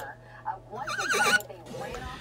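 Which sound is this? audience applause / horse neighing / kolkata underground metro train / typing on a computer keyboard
horse neighing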